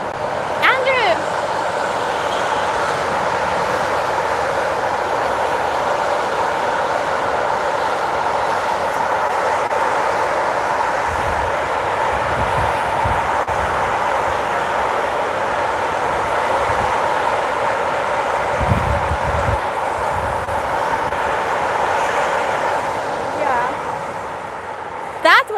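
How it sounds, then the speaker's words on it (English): A train passes during a Saturday night walk near a marina, heard as a steady broad rumble that lasts the whole stretch. People talk at times over it. "That was a train."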